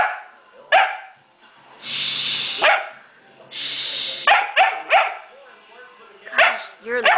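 A schnauzer barks loudly in sharp bursts, several quick yips and barks in a row nearby, with a person's voice talking between them and a steady hiss of running water underneath.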